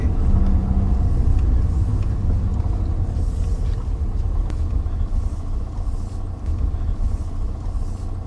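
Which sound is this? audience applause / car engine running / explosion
car engine running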